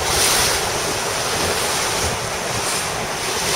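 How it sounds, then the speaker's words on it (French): Wind and breaking waves at sea aboard a sailboat flying a spinnaker, a steady broadband wash with wind buffeting the microphone, loud and constant throughout with no voices. "le vent s'est levé tout à l'heure."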